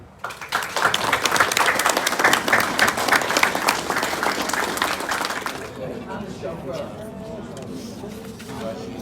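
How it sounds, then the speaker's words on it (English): At a veterans honor dinner, the audience applauds the veterans in the room. Thick, loud clapping from a full room sustains for about five seconds, then thins and fades into scattered claps and murmuring voices. "please help join me in a round of applause to recognize all your fellow veterans in this room"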